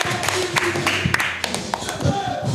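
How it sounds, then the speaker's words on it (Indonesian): Audience applause in an indoor comedy-style show, a steady patter of many hands clapping with sharp individual claps standing out, lasting the whole moment at moderate loudness. "Boleh tepuk tangan buat Eski"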